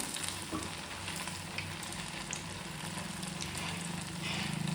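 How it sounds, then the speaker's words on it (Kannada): Sabudana vada deep-frying in hot oil, a steady close sizzle and bubbling that runs throughout and swells slightly toward the end, with no talking. "ನೋಡಿ ಚೆನ್ನಾಗಿ ಬೇಯ್ತಾ ಇದೆ ಸಾಬುದಾನ ವಡೆ"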